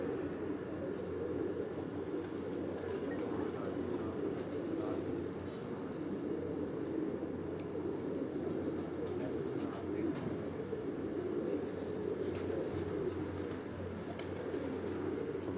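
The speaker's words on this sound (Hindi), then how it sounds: "काफ़ी देर से ये कबूतर आप देख रहे हैं" Pigeons cooing on an evening rooftop in Rawalpindi, low throaty coos repeating under a constant hum of background noise, with someone talking at times.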